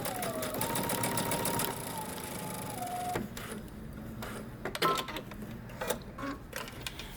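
Close, steady mechanical whirring of a sewing machine stitching down a skirt seam allowance for the first few seconds, then slowing and giving way to scattered clicks and handling noises.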